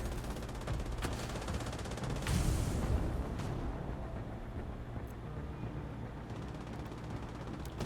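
Dense, continuous gunfire in The Division 2 video game, with rapid automatic bursts layered over a loud, steady wash of battle noise.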